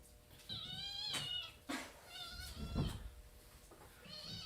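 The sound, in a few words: cat meowing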